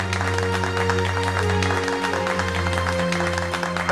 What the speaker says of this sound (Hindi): तो कीजिए जोरदार तालियों से इनका स्वागत